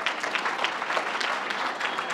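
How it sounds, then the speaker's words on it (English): An audience at the UMass Boston 2009 commencement honoree celebration claps for honorees, a dense steady patter of many hands at moderate distance, sustained without break and no talking over it. "Allie and Diane, let's give them a round of applause."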